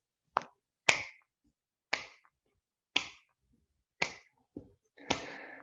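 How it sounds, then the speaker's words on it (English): Sharp hand claps during a qigong practice session, seven distinct claps spaced roughly a second apart, each loud and close with a quick decay, heard alone with no talking. "hold our breath and clap"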